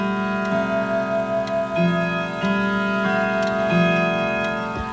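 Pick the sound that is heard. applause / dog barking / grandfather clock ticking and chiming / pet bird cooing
grandfather clock ticking and chiming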